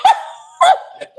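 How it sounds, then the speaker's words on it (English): An American Bully XL barks in a living room: two loud, close, sharp barks about half a second apart, followed by a shorter yip-like sound, with no talk over them. "the dog in the living room"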